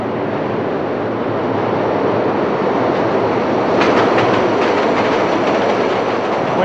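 A loud, steady rumble of a train passing in a rail yard fills the scene, with a brief burst of rhythmic clacking midway, no voices present.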